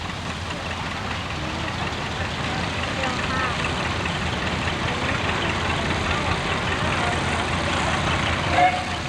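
A 1941 David Bradley tractor with a sulky runs at an antique tractor and steam engine show, giving a steady, moderately loud engine drone with a low rumble that stays constant throughout.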